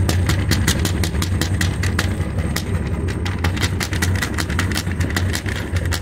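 A Chevrolet C10 engine idling with a misfire, heard close at the exhaust: a steady loud rumble broken by a rapid, uneven run of sharp puffs and stumbles throughout.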